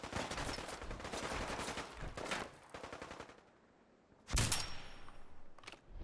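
Gunfire in Fallout 4 around Diamond City: bursts of rapid, loud shots in a rattling volley, a pause, then another sharp crack followed by a shorter burst.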